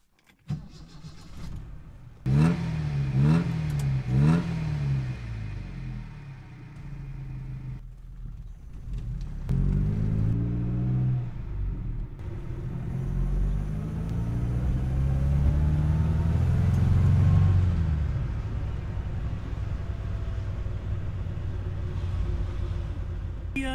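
A 1963 Alfa Romeo Giulia starts up with a few cranking bursts, then its engine rumbles and revs as the car pulls away and drives, the note rising and falling steadily with no talking.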